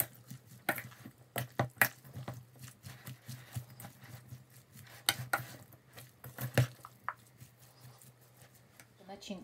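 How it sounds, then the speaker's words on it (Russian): Sliced potato and meat pie filling being stirred in a bowl, giving irregular soft clacks and scrapes of utensil against dish at close range, with small wet shuffling in between. "Теперь хорошо перемешиваем."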